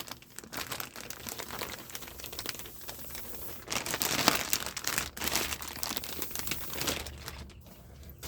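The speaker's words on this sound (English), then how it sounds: "we're just going to pull it out of the bag." Close crinkling and rustling as a seat cushion is pulled from a plastic bag, steady scrunching that swells louder midway and fades toward the end.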